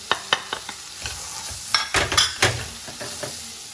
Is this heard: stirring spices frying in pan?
yes